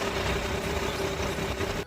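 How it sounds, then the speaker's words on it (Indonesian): Adiputra bus engine idling after a drive along a dusty road, a steady low diesel rumble with a faint whine, continuous and close throughout. "seperti inilah mesin bus Adiputra"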